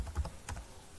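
A few soft keystrokes on a computer keyboard as someone types a search into a web browser, quiet and close, in a brief cluster of three or four taps followed by near silence.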